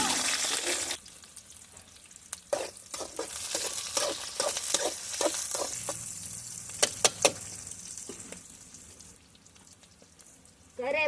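Onion sizzles in hot oil with cumin and dried chillies while a spoon stirs, giving steady frying hiss broken by a run of sharp scraping clacks.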